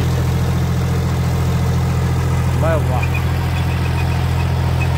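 A John Deere tractor running a rotavator in first low gear at about 1600 rpm, a loud steady low diesel drone throughout, with a brief exclamation from a man partway through.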